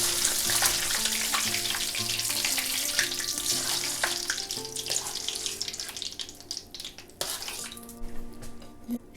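Shrimp heads frying in hot oil, a dense crackling sizzle with popping bursts that starts strong and gradually thins out, with occasional utensil clinks and no speech.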